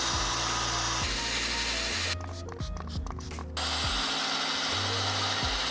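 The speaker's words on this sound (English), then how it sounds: "I make sure to keep it low on my drill" A power drill runs at low speed with a sanding attachment on a foggy plastic headlight lens, a steady close whir with a short burst of spraying in the middle.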